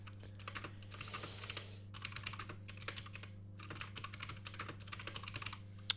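Rapid typing of text on a computer keyboard, a dense run of light clicking keystrokes in bursts with short pauses, close and fairly quiet over a low steady hum, no voices.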